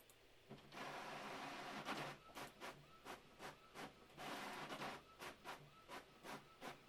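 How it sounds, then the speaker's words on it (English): A printer running during an online oyster sale, a faint whirring and rhythmic mechanical shuffling with a dozen short repeated strokes toward the end, heard alone. "there goes the printer"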